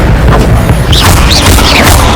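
A loud, booming blast from an Incendio fire spell in Hogwarts Legacy, a heavy rumbling burst filling the clip with whooshing magical tones over it.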